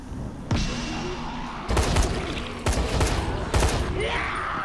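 Special-weapon gunfire in the video game Dying Light: four heavy booming shots spaced roughly a second apart, each with a short rumbling tail over a steady background of game ambience.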